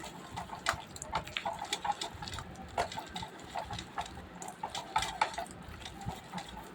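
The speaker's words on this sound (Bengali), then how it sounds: "একটা আটি নেব, নিয়ে এবার এর মধ্যে দিয়ে এমনি এমনি ঘষবো।" Palm fruit seed rubbed by hand to draw out its pulp, giving a wet, rhythmic scraping and squelching in short repeated strokes, close and moderately loud.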